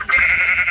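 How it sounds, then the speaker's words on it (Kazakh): A Minecraft sheep gives one short, loud, close bleat, with nothing else around it. "Мына жақта малдар тұрады"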